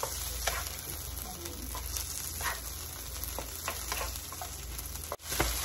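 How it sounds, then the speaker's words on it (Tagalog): Garlic toasting in a hot pan, a steady crackling sizzle with scattered pops and a faint background hum, running continuously and close with no one talking. "Toasted garlic."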